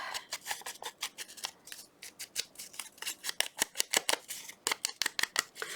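Paper being torn by hand while making a Valentine envelope pocket for a white lacy cover journal, heard as a rapid series of short, close, crisp rips and crackles in uneven bursts, with no talking.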